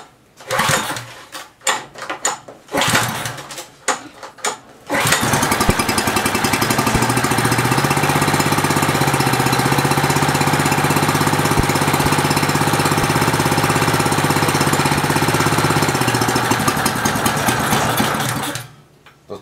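Old Simoniz gas pressure washer engine running rough with a carburetor problem: a few sputtering pulls and bursts, then a loud, steady, rattling run that cuts off abruptly near the end.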